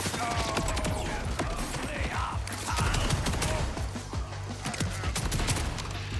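SMG gunfire in the video game Borderlands 4, rapid bursts of close, sharp shots with mechanical clatter, pausing briefly and then firing again.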